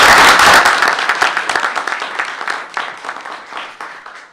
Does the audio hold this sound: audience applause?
yes